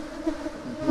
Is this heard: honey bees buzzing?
yes